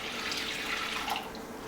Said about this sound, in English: Now I'm going to put the second cup of water here.